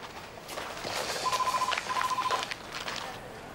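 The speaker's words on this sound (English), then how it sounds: "No wonder the phone is ringing." A telephone rings in an indoor TV drama scene: two electronic warbling bursts in a row, moderately loud over a low room background.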